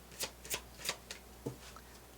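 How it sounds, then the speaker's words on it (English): A deck of tarot cards shuffled by hand, a series of about seven quick riffling bursts spaced irregularly, close and fairly quiet, with no talking. "let's just give this a good shuffle"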